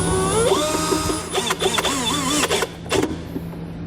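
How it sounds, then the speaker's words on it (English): A power drill drives a self-tapping screw into the floor of a 2018 Jeep Compass, with rising and falling motor whirs in short bursts and pauses, close and fairly loud. "I'm going to take the included self-tapping screw, I'm going to start a hole, remove it, and then secure my ground wire"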